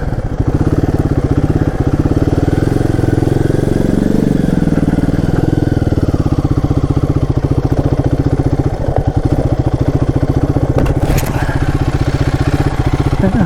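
Royal Enfield Guerrilla 450 motorcycle riding along, its engine a loud, steady thumping drone with shifting pitch as it accelerates and eases off, continuous throughout with wind rumble.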